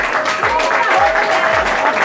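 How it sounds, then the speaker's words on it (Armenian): A crowd at a village birthday celebration claps steadily and loudly throughout, with voices mixed in under the applause. "Ծափեր տվեք"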